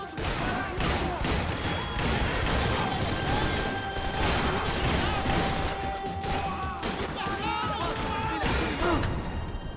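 Dense gunfire in the video game Max Payne 3, a continuous rattle of overlapping shots and impacts through most of the stretch, loud and busy with faint voices and game effects mixed in.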